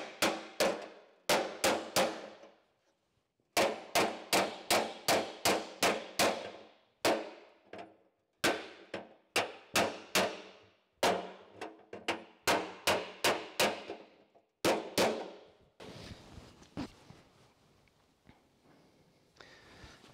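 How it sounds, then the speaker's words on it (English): Repeated sharp hammer blows ring on the thin sheet metal of a Holden HG Kingswood ute, struck in quick bursts of several hits with short pauses, each clang decaying briefly; faint scraping follows at the end. "it's going to need a good belt with the hammer to shift it"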